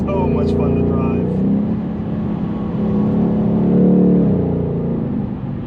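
A 2021 Ford Mustang Mach 1 with its active valve exhaust opened up rumbles in a steady, loud low drone while driving, swelling slightly midway without clear separate revs.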